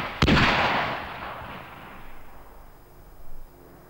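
A 3.5-inch bazooka, an aluminium-tube rocket launcher, fires with one sharp loud blast that rolls into a long fading rumble and echo.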